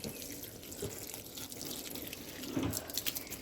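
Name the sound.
watering potted plants with water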